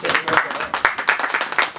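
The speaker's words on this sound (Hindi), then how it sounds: "ताली पर जोरदार हो जाए" An audience at a film trailer launch claps in a brisk, uneven burst, a cluster of close, sharp hand claps with a few people voicing over it.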